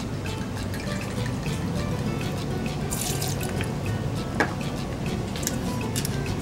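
One ounce of tequila is poured for a pineapple ginger margarita, giving a soft liquid trickle with a few small drips and clinks over a steady background hiss. No one speaks.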